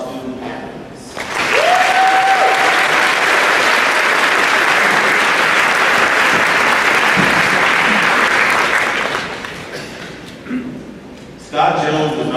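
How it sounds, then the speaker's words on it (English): Loud, sustained applause from an audience honoring student athletes at a high school athletic signing celebration, building quickly and holding steady for several seconds before fading, with a short whistle near the start and a voice returning at the end. "Give me a warm round of applause for our student athletes."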